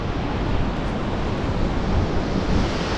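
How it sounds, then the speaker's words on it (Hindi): Waterfall plunging from a great height along the mountain route to Mustang in Nepal, heard as a dense, steady roar of rushing water mixed with wind noise, continuous and fairly loud with no talk. "कितनी ऊँचाई से गिर रहा है वाटरफॉल"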